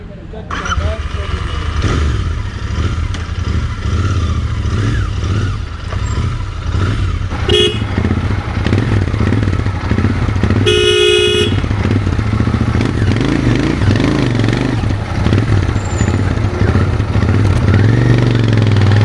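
A Royal Enfield Continental GT 650 motorcycle engine runs loud and close throughout a test ride, with steady revving, a couple of short horn toots from traffic, and someone talking over it.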